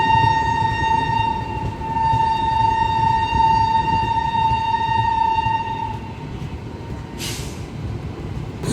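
An Arunachal–New Delhi special passenger train runs steadily on rails, heard loud from inside a first-class coupe, with a long sustained horn tone over the rumble that stops abruptly, followed by a brief hiss. No one speaks.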